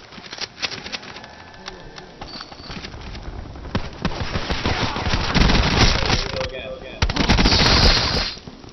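Gunfire in Call of Duty Black Ops 4 Blackout battle royale, with bursts of automatic shots that grow louder and denser toward the end, set over continuous game noise and talk.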